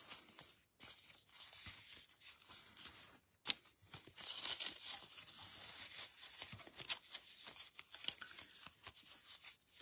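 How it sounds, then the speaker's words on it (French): A folded paper greeting card with a lavender design being closed and pressed flat, giving soft close crinkling, rustling and tearing-like paper sounds in irregular bursts over about ten seconds, with no talk. "Donc, je ferme ma carte."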